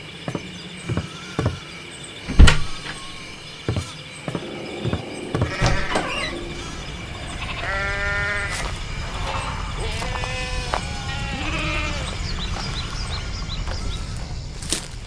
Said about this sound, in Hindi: वो सबसे पहले बारी से एक भेड़ का बच्चा उठाए और उसका मुंह दबाकर धान के खेतों की तरफ भागे